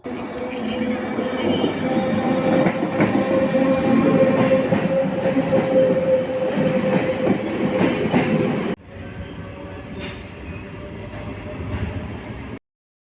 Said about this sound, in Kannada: ಇವಾಗ ಟ್ರೈನ್ ಬಂತು.